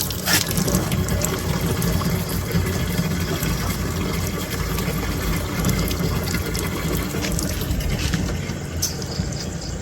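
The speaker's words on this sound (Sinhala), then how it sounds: "මෙහෙන් තමයි ෆිල්ටර් වතුර ගන්න." Water gushes from a filtered water tap at a pilgrimage stop, a steady, loud rushing flow with a pump-like hum that runs unbroken for nearly ten seconds.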